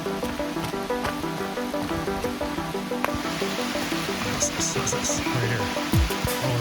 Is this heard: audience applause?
no